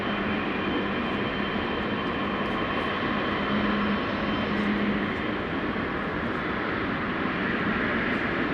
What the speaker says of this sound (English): KLM flight 515 is on the roll. Going to Zanzibar and expected to take off from 18 left.